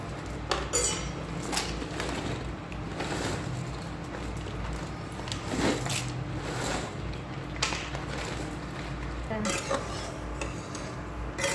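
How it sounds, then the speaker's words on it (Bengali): Dried pasta going into a pot of hot water on a home stove, with clinks and clatters of pot and utensils scattered across the stretch at close range, under a low steady background. "তো আমি দেখো জলটা গরম হয়ে গেছে, এখন পাস্তাগুলো দিয়ে দেবো।"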